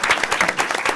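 A brief burst of applause from a small crowd at a county commissioners' meeting, steady rapid clapping heard close and moderately loud.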